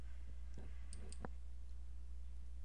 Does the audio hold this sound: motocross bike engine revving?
no